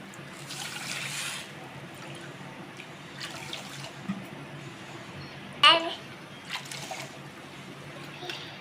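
Water pours into a pot in a few separate splashing bursts for sugar syrup, each a brief trickling gush, with quiet clinks between pours.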